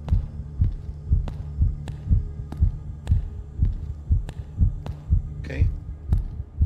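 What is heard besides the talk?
heartbeat in a video game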